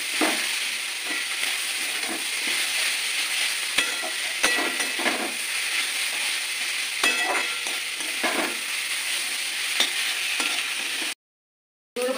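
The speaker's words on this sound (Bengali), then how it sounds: "আদা দিয়ে একটুখানি নেড়ে চেড়ে নেবো।" Chowmein with ginger is stir-fried restaurant-style, Kolkata street-food fashion, under a loud, continuous sizzle with frequent tossing scrapes and clanks, close and busy, ending in a brief cut to silence and no talk.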